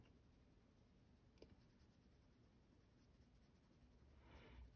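Colored pencil shading on paper for a drawing of a wet hare, a very faint, close, continuous scratchy rasp of the pencil point with a brief louder scrape near the end, no talking.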